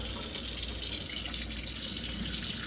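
Cold water runs from a tap in a steady, loud, unbroken gush that stays even throughout, with no one speaking.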